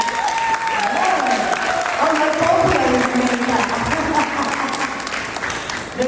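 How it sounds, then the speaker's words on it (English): An audience at the official opening of the Second Dominican Week in Jamaica 2024 gives sustained applause, a dense, steady clapping that holds for several seconds, with a voice speaking through it. "There is a spontaneous applause"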